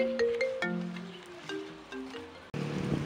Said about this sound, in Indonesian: Bentar dulu ya, ada telepon lagi.